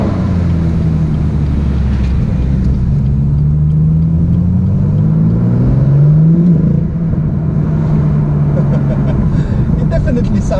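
A BMW M2 with a modified exhaust, a loud deep rumble held close throughout with a rising rev around the middle, pitch sliding up and back down, and faint pops on top.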